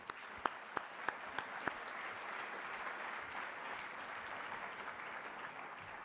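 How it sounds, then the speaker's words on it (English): A panel audience welcomes distinguished guests with applause: a few sharp, separate claps up front, then a soft, even patter of many hands that carries on quietly at a distance. "So a big round of applause for Steve and our distinguished guests."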